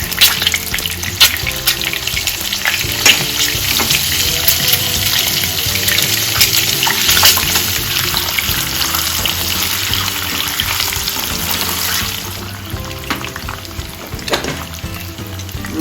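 Spices, including turmeric, frying in a kadahi for egg biryani produce a loud, close, continuous sizzle with stirring scrapes throughout, easing slightly toward the end.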